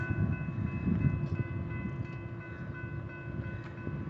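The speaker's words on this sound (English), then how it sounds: "We have a eastbound BNSF freight train" An eastbound BNSF freight train rumbles past at a steady distance, a continuous low rolling roar of rail cars with faint metallic squeals and clanks above it.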